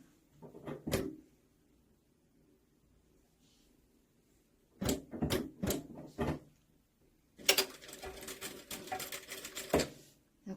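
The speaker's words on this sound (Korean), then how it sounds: "자 이렇게 해서 일단 박음질 한번 해볼게요" Home sewing machine stitching a seam on wide-leg trousers, running in several short bursts separated by pauses, then a longer continuous run near the end, close and alone with no talking.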